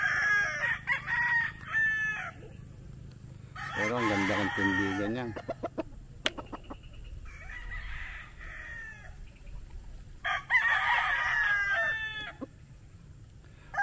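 A Kanawayon x Sweater gamefowl rooster crows several times in loud, close bursts with clucking between calls, while someone talks over part of it.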